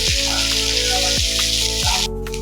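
Sliced onions sizzle in hot oil in a home kitchen, frying into a steady, close, bright crackle, with a few soft knocks from utensils and no talking.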